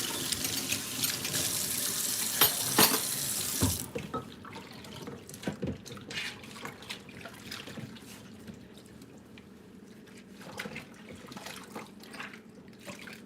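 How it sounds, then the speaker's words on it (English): Tap water runs loudly into a kitchen sink for the first few seconds, then drops to softer splashing and clinking as glasses, mugs and cups are washed by hand, with intermittent dripping and handling noises. "I'm gonna get these glasses, mugs, and cups washed real quick."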